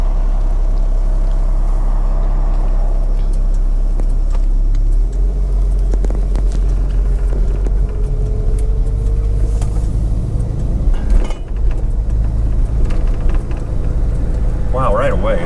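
A 1954 Chevrolet Bel-Air on the road, its steady low engine rumble and drivetrain drone filling the cabin throughout, loud and continuous, with people talking inside the car.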